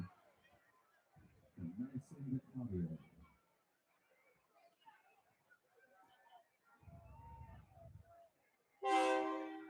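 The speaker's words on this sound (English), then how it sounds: "Franklin County just got a hold of the train whistle" At a high school football game between Scott County and Franklin County, a train whistle sounds once near the end, a loud harmonic blast after quieter stretches with announcers talking.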